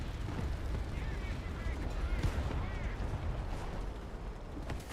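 Steady, dense gunfire and rumbling battle noise in Fallout 76, loud and continuous without a break, with a voice talking underneath.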